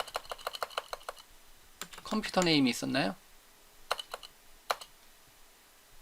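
Brisk keyboard typing during a C# programming lesson, a rapid run of close, crisp key clicks, a pause while someone speaks Korean, then a few scattered keystrokes.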